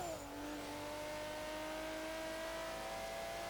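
A 1995 Nissan NISMO GT-R LM race car engine in Forza Horizon 3 holds a high, screaming rev near 9,000 RPM with a steady whine, sounding synthetic like game audio, with no voices.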